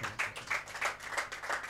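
A church congregation claps in a quick steady rhythm, about eight sharp rounds of hand claps in under two seconds. The clapping sounds fairly faint and a little distant.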